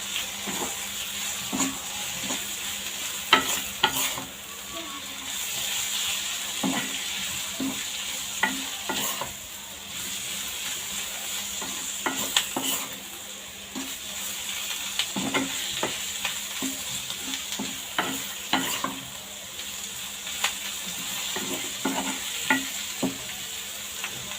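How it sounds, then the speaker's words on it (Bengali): Pointed gourd peels sizzle steadily in a hot pan while a utensil scrapes and stirs with repeated clinks, close and continuous. "ভাজা হয়ে গেছে, প্রায় 7-8 মিনিট ভেজে নিয়েছি।"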